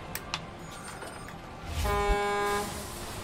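A truck horn in the video game SnowRunner honks once in a sustained, buzzy blast lasting under a second, following a few faint clicks and a low background hum.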